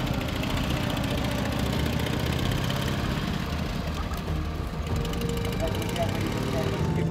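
WWII German BMW R71 motorcycle and light armored car engines idle with a steady, continuous rumble at a military-historical reenactment, with voices over the engine noise.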